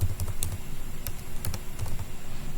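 Keys clatter on a computer keyboard in quick, uneven bursts of clicks, fairly close but quiet, with short pauses between runs of typing.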